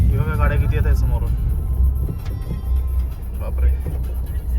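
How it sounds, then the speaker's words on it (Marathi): Steady stream of cars and other vehicles on a busy road near the Kuber temple in Gujarat, heard as a continuous low rumble close by, with people talking briefly at the start. "हे बघा गाड्या किती येत आहे समोरून"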